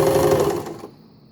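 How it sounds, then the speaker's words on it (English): An Empisal Dressmaker 270D sewing machine runs a zigzag stitch in a short, close burst that cuts off after under a second, leaving a faint high whine. "Stitch D is another zigzag stitch."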